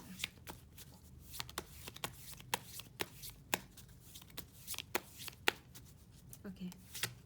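A deck of tarot cards is shuffled close up, giving a steady string of sharp papery snaps and flutters in an uneven rhythm, quiet overall.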